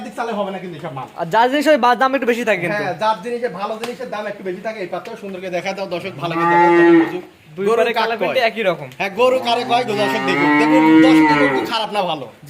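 Purebred cattle, medium-sized heifers on a farm, moo loudly and close by, several long drawn-out lows, with people talking in between the calls.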